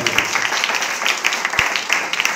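A church congregation claps its hands together, a dense run of close, bright claps with a few sharper single strikes standing out.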